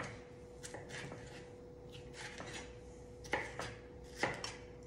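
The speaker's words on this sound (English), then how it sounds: "And then just chop up a little bit of tomato." Tomato chopped with a sharp knife on a cutting board, a quiet, uneven series of soft taps and thuds, close by and faint, with no one speaking.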